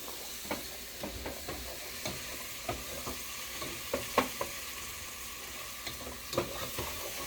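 A cream of chicken mixture simmers and cooks down in a pan, giving a soft, steady sizzle with scattered light stirring scrapes and small clicks, close and fairly quiet, with no voices.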